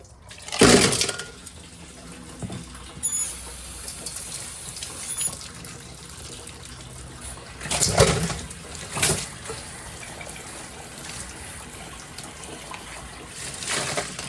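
Water from a garden hose runs into a rock tumbler barrel with rough gneiss inside, gushing and sputtering in uneven bursts as trapped air spits out. The rushing sound is close and rises and falls over a steady background.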